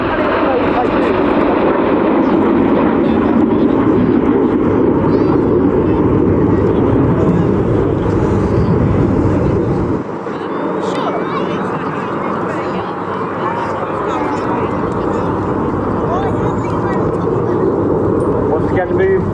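Red Arrows aerobatic jets fly in formation at the RAF Cosford Airshow, a loud continuous broadband roar that dips briefly and then carries on, with muffled voices underneath.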